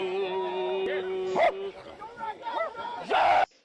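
A small dog yips and barks a few times, sharp and close, amid whimpering sounds and a person talking.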